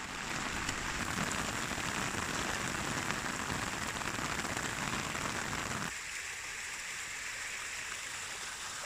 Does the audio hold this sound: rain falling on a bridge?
yes